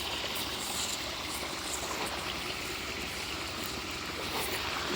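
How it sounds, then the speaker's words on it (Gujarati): Water running steadily through an irrigation channel in a farm field sown with fodder grass, a continuous close gushing rush with no breaks and no voices. "તો આની અંદર આગળ પાણી હાલે છે"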